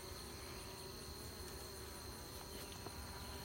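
Honey bees buzz in a dense, continuous hum while homemade comb is moved into hive frames, a soft, steady swarm sound with no voices.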